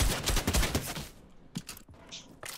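A video game deathrun map's LMG firing in loud, rapid bursts, dense automatic gunfire at first, then sparser shots with brief gaps, close and up front.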